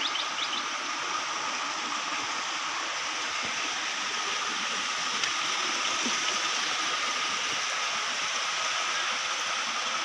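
A stream flows through natural forest in a steady, even rush of water that holds close and constant throughout, with no breaks.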